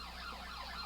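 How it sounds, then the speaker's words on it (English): Emergency vehicle sirens wail faintly in the distance during a New Orleans parade, a thin steady tone under crowd ambience. "And we have the sound of sirens."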